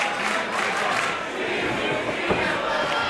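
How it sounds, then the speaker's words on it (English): Wrestling crowd at a live show roars and chants steadily throughout, a dense, loud wall of voices with a brief sharp shout near the end. "I believe the crowd is saying Timu Diesel."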